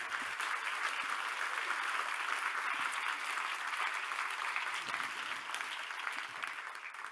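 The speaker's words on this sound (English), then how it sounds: "So can we give them a round of applause," Steady audience applause fills a conference awards ceremony for a science-centre award, a dense, even clapping that stays constant and fairly distant throughout, with no talk over it.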